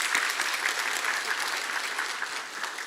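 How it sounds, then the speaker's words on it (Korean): A church congregation at a Sunday afternoon service breaks into warm, sustained applause, dense and even, filling the room for several seconds. "다시 한번 큰 박수 부탁드리겠습니다."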